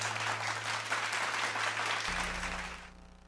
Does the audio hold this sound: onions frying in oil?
no